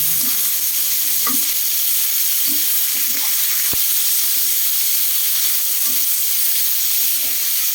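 An egg fries in a pan for a Thai basil stir-fry, with a loud, steady sizzle running throughout and occasional soft clicks and scrapes. No voices are heard.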